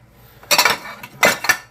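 Plates and dishes clinking on a kitchen counter while setting up to cook sliced zucchini, two quick bursts of sharp ceramic clatters close by, with no talk.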